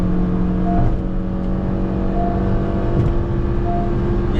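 A Honda City with coilover suspension is pushed hard on the road, its engine holding a steady, loud whirring drone under constant road and tyre noise, with no talking.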